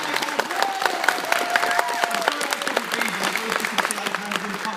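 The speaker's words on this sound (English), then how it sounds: "give a massive guest a round of applause, ladies and gentlemen" A crowd applauding steadily at a comic convention, dense clapping throughout with faint cheers, while a voice talks over it.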